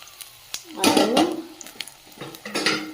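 A spatula scrapes and knocks around a wok as coarsely mashed boiled potatoes are stirred into oil with five-spice seeds and dried red chilli, a few separate clanking strokes with faint frying beneath and no voices.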